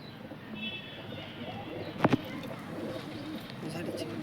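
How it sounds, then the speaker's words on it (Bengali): A male Chini Kaldam pigeon and others coo in low, soft murmurs beneath a man's speech, with one sharp clack partway through. "এটা চিনি কালদম আছে। এটা নর পায়রা।"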